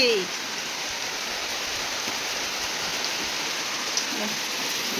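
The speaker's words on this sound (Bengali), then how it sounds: "কি বৃষ্টি পড়ছে বাপরে বাপ" Steady, dense rain pours down in a continuous hiss, close and loud, with a brief voice at the start and faint patter throughout.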